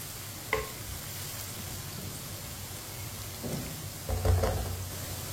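Potato and eggplant pieces fry in a pan with a steady soft sizzle, broken by a few scraping clanks of a spoon stirring them, fairly quiet and without talk.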